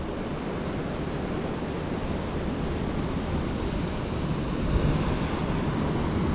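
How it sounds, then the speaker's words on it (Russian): Sea waves at Bentota Beach in Sri Lanka, a steady broadband wash of surf with a slight swell near the end, no voices, constant and fairly close. "Море более спокойное."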